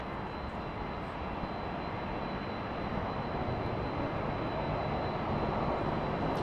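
Airplane jet engine roaring at Toronto Pearson Airport, a steady, loud, broad rumble that holds unbroken for several seconds with no voices over it.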